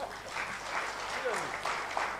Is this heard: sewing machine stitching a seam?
no